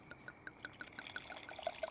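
Red wine from a 2021 vintage pours into a glass, a soft close trickle with gentle glugging pulses, quiet and steady with no talking.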